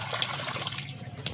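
Water splashes and trickles as dishes are washed at a riverside ghat in the Sundarbans, making a steady, close wash of liquid sound with small splashes throughout.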